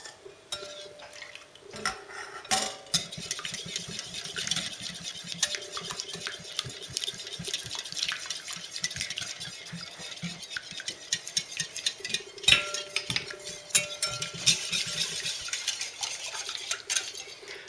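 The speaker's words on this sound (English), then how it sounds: "I'm going to add very little milk, of the hot milk that is, and keep whisking." A whisk beats hot milk into a custard mixture for Greek kataifi, a fast, continuous metallic clatter of wire against a bowl, close and steady with brief pauses.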